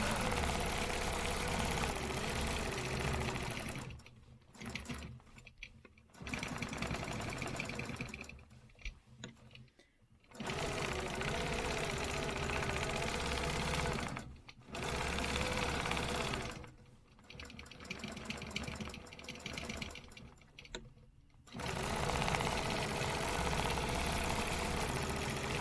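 A sewing machine stitching a stencil design runs in steady humming bursts, several long stretches of stitching separated by short pauses, close and fairly quiet.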